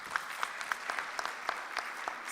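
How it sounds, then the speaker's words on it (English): Audience applause for a speaker at a university science and agriculture postgraduate research day, with steady claps from a modest crowd sounding fairly close and even throughout. "Let's give him a round of applause"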